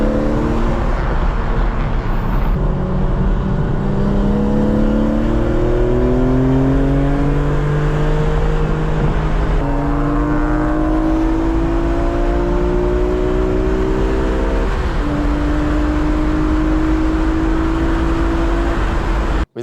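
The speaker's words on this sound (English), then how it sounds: "Our friend Steven's E46 M3 also recently got a new intake system. That sounds absolutely glorious." A BMW E46 M3 engine fitted with a new intake system, revving loudly through rising and falling gear pulls, each climb in pitch cut by a shift, sustained and close with no talking.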